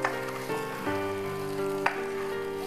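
About a cup of minced meat sautéing in a pan for a potato patty filling, giving a steady close sizzle and frying hiss with a couple of brief stirring scrapes.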